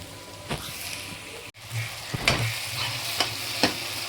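Brinjals frying in a pan of masala gravy, a low steady sizzle broken by a few sharp stirring clanks and scrapes from a spoon, close and moderately loud.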